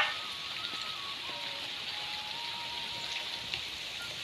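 Rain falling during monsoon season in a rural farming village in India, a steady, even hiss of drops close by, running on without pause and with no voices.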